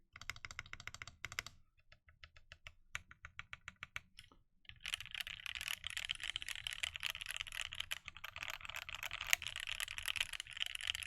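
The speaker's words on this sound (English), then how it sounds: "Nice and close to the keyboard. Let's see what it sounds like." Typing on a Kepler FC65 mechanical keyboard with a forged carbon fibre case, picked up close: bursts of rapid clacking keystrokes, a brief pause, then a dense continuous stream of typing, loud and alone.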